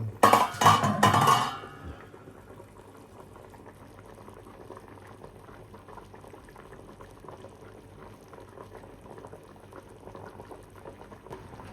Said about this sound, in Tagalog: kumukulo-kulo pa rin.